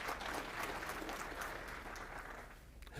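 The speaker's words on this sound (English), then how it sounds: "that deserves applause" Audience applause at the 2024 Volusia County, Florida state of the county address, a steady, fairly quiet patter of many hands clapping in a hall, thinning slightly toward the end.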